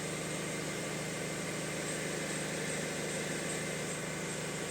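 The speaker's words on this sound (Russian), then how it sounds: "Просто чистая работа стартера и работа двигателя." An Opel Insignia's B16DTH diesel engine, fully warmed up, idles steadily just after starting, a dense continuous mechanical hum and clatter heard close with no talk over it.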